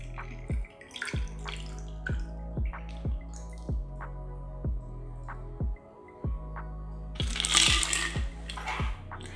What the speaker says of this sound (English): pour the cocktail over the ice.